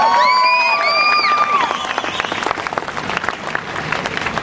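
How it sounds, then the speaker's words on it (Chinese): An audience claps and cheers at a live political event, a loud burst of applause with shouted voices starting at full strength and then easing into steady clapping. "也给米酱一个掌声"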